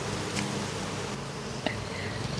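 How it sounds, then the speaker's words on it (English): Honey bees from an opened homestead hive give a dense, agitated emergency buzz that hums steadily throughout under faint handling noises, with no talk. "You hear them, they're like, emergency buzzing."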